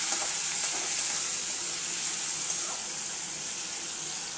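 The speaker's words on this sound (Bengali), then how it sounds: "এই চিংড়ি মাছটা এখন আমি এখানটা ভেজে নেব বন্ধুরা।" Small prawns frying in hot oil give a steady, bright sizzle that holds evenly throughout, close and loud, with no voices.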